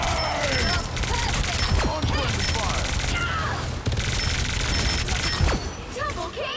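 Rapid gunfire from The Hood's guns in the Marvel Rivals video game, sustained bursts running through the whole stretch alongside chaotic game-fight crashes and impacts, loud and dense.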